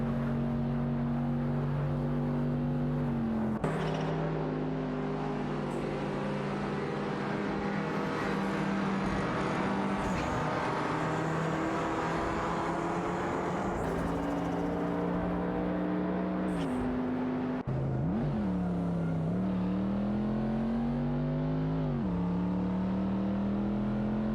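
Ferrari 512 TR and De Tomaso Pantera G5 SE racing in a video game, a loud continuous engine drone with rising and falling pitch as gears shift and revs climb.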